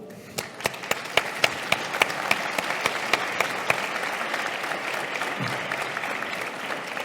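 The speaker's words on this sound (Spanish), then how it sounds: "Tomás y Ángel se merecen un aplauso." Applause from an audience closing a round-table panel discussion at a forum, a steady spread of clapping with a few distinct louder claps pulsing near the front, gradually thinning toward the end.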